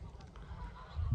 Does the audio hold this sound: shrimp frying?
no